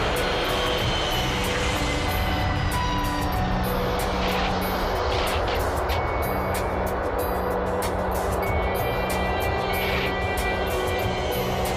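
A KLM airliner lands on runway 30 with a continuous loud engine and rolling roar that holds steady throughout. No voices are heard.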